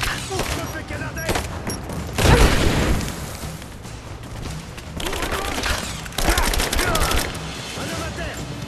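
Suppressive gunfire in the video game Rise of the Tomb Raider, set in a Soviet complex: sustained automatic bursts and booming impacts, loud and dense, with shouted voices mixed in the chaos.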